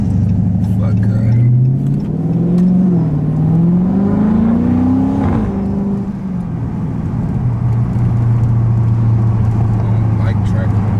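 Loud, close Dodge Scat Pack engine revving, the exhaust note rising and falling through several throttle blips before settling back to a heavy rumbling idle, with talk mixed in.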